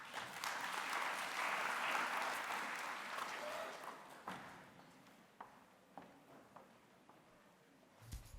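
Conference attendees at a small-business event applaud a speaker, a full round of clapping that swells early, then thins out and fades, leaving only a few scattered claps near the end.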